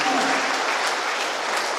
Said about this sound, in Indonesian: Tepuk tangan dulu Duli Junior.